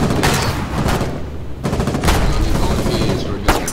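Sustained video-game gunfire aimed at an enemy trench, mixing machine-gun bursts and overlapping shots into a loud, continuous volley with a few sharper cracks, and voices faintly underneath.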